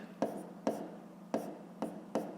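Pen scratching on paper while working a fifth-grade maths problem: five brief, separated strokes, each a sharp tap fading quickly, close and soft above a low constant hum.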